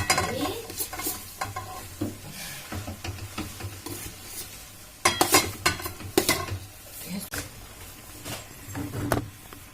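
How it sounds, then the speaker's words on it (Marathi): Potato filling for paratha being sautéed in a pan, with a spatula scraping and stirring in irregular bursts over a soft sizzle, clattering pan contacts, close and moderately loud, no talk. "पराठ्यामध्ये लागणारा बटाटा जे आहे तो परतून घेत आहे"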